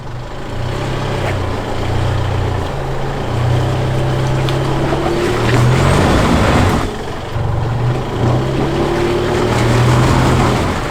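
A 4WD vehicle grinds up a rocky beach track. Its engine drones loud and close throughout, with low revving pulses rising and falling as it climbs. Tyres crunch over rocks, and there is no talking.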